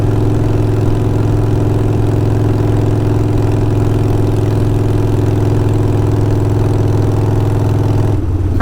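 Harley-Davidson Sportster 48 with Kinetic 540 lateral exhausts cruising, a loud, steady, deep engine drone that holds constant throughout and cuts off abruptly at the end.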